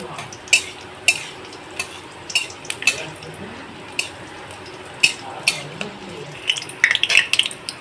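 Whole spices such as cinnamon, cloves, cardamom and dried red chillies tempering in a pan, with faint frying under repeated clinks and scrapes of a spatula against metal, irregularly spaced.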